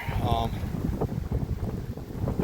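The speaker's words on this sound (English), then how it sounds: "the wind is blowing at the little end of the tripod here" Wind blows outdoors against the small end of a tripod, producing a rough, rumbling buffeting against the microphone that gusts unevenly throughout.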